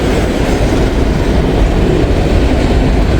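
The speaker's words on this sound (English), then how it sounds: "It is a daily train from Chicago to Cincinnati" Daily freight train 263, running from Chicago to Cincinnati, rolls past close by in a loud, steady roar of rumbling wagons and clickety-clack wheels, with no voices.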